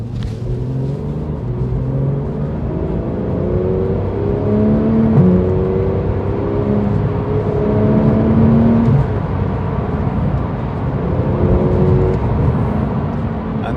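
A Porsche 911 991.1 GT3 engine accelerates through repeated rising sweeps, its pitch climbing and dropping between gear changes, heard loud and close with no talking.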